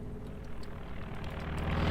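A reconnaissance aircraft from the Company of Heroes 2 game flies overhead, a steady engine drone that swells gradually louder over two seconds, with no talk.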